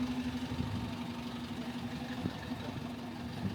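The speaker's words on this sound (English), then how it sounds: "A bit of a baby fire engine here." A small fire engine idles nearby in France with a steady low hum and a faint, even mechanical rattle, holding the same pitch throughout.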